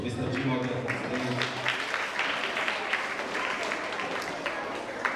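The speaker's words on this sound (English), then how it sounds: "As I call the name, please clap for you." An audience at a school Literacy Week grand finale claps as a teacher walks on stage, a dense, steady patter of many hands that continues after brief talk at the start.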